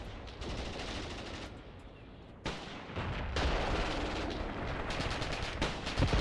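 Dense battlefield gunfire from a village assault in the Graviteam Tactics war game, with machine-gun bursts and rifle shots rattling continuously, loud and sustained, swelling after a brief lull midway.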